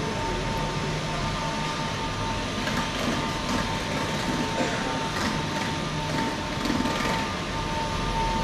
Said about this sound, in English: We're going to go to London Bridge on this train.